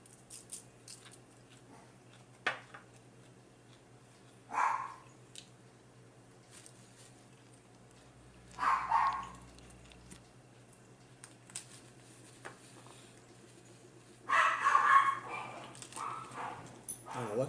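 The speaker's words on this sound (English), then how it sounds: "I don't know what that dog barking at." A dog barks off and on in a quiet room, a few separate sharp bursts spaced seconds apart and a louder cluster near the end, with faint clicks and soft sounds between.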